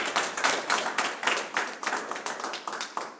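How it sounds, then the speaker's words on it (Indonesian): Audience clapping at a community mentoring event in Surabaya, a dense, steady patter of many hands that swells and dips across a few seconds with no voices over it. "Mau tepuk tangan, tepuk tangan."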